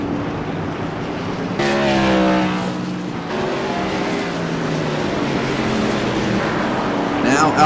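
A Rockstar Energy light modified race car roars through turns three and four at Martinsville Speedway, its engine note rising and falling loudly as it passes, with a commentator talking over it.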